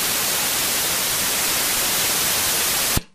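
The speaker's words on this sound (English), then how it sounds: "So then there's the ZN noise, which uses a Zener diode." Steady hiss of Zener diode noise from the Static noise source module, a dense bright wash of white-like static held evenly for about three seconds before cutting off abruptly with a tiny click, no voices.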